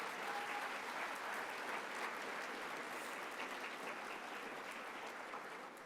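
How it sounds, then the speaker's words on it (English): Dense, sustained applause from a large audience at a 2019 intermediate school graduation ceremony, steady and even for several seconds before easing slightly at the end, with no speech over it. "Students, please give your parents and teachers a big round of applause."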